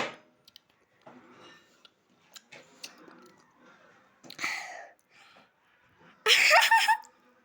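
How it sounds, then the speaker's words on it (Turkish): A person chews food slowly for a long stretch, with soft, wet, scattered mouth sounds close to the ear, followed near the end by a louder burst of breath or laughter. "Bayağı bir süre çiğnediğiniz zaman"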